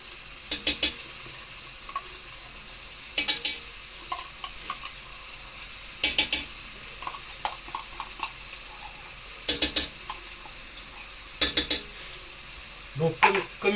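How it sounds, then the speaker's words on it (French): Tomato paste being stirred into beef and rice sizzling in a pan, with steady frying hiss and repeated bursts of spoon scraping against the pot at irregular intervals, close and clear with no talk. "Donc là, maintenant, on rajoute le concentré de tomate."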